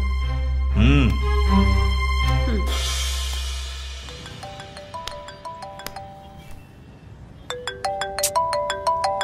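A phone ringtone plays a bright electronic melody that repeats in quick, rising notes after a brief musical passage.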